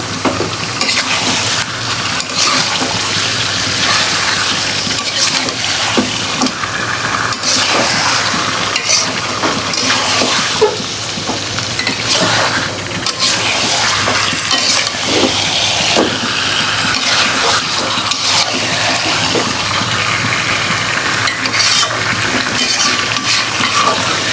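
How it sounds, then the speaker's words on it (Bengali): Chicken pieces and potatoes sizzle and fry in a pan while a spatula stirs and scrapes them, a constant loud crackling sauté with rhythmic scraping strokes throughout. "তো গোস্টটা আর আলুটা কষানো হতে থাকুক"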